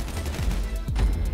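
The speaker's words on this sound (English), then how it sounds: "All the bullets bouncing around you" Rapid gunfire in GTA Online, with bullets ricocheting in a brief, dense burst of sharp cracks and thumps close by.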